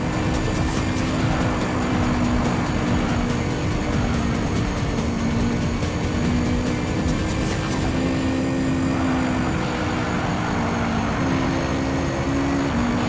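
A car fitted with a Spoon VTEC engine in Gran Turismo 3 screams at high revs, a loud sustained engine whine with steady tonal harmonics that shift slightly as it holds speed.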